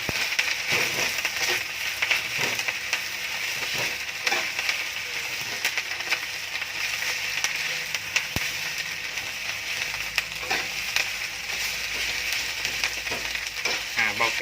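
Gymnema leaves stir-fried with egg in a pan, steady close sizzling and crackling with a spatula scraping and tossing at irregular intervals, no talk.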